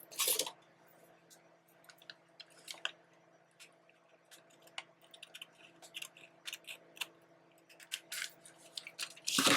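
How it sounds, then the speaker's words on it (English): Small scissors snip through a paper bag in short, irregular cuts, close and fairly quiet, with brief crisp paper rustles between the snips. "let me use the little scissors."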